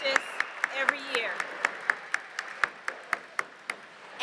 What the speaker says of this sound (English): Let's give Rasan Bernard a hand, please.